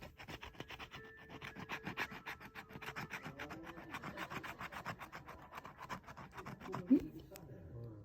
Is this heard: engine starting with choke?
no